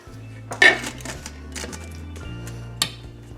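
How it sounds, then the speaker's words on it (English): A lid set onto a crockpot holding a cheese-stuffed meatloaf, giving a couple of sharp ceramic clinks and a brief rattle over a steady low background hum. "Let's go ahead and put a lid on it"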